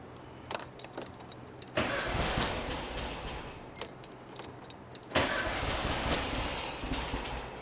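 A 1973 VW Super Beetle with a 1760cc engine, dual 40 carburetors and a Revival exhaust fires up for the first time. It cranks, catches with a loud burst, settles briefly, then cranks and roars to life again, close by.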